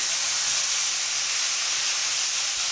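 Onion paste sizzling in hot oil for a Bengali fish-head kalia, a steady, loud, even hiss that holds without a break, with no talk.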